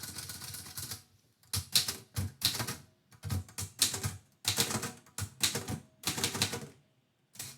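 A typewriter clacks in rapid bursts of keystrokes, broken by short pauses and carriage movement, close and fairly loud, during a morning poetry-writing session.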